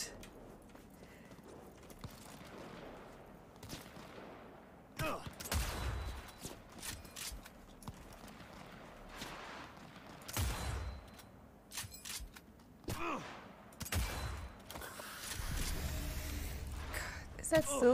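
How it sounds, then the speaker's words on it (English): Gunfire in Cyberpunk 2077, scattered sharp shots and bursts at irregular intervals, some close and loud, others fainter, with a person talking between them. "There's someone also shooting from the other side."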